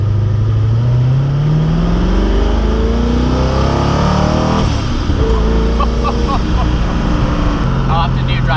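A Koenigsegg Agera RS supercar pulls away and accelerates, its engine note climbing steadily through rising revs, then dropping and building again, loud and close from inside the car.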